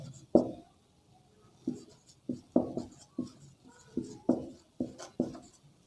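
Chalk or marker strokes tap and scrape on a classroom board in short, irregular bursts, about ten distinct marks spaced over a few seconds, close and moderately quiet with no talking.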